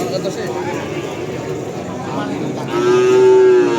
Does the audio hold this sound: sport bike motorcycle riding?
no